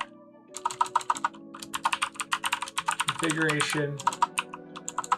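Rapid, crisp clatter of computer keys while a Java Spring Boot method is written, steady bursts of keystrokes close up under a voice talking over them.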